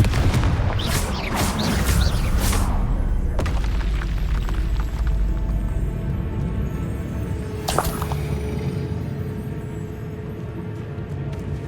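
Confringo spell explosions in the Hogwarts Legacy video game, with a cluster of sharp bursts and booms early on, then a lone crack later, all over a constant low rumble of ambient game noise.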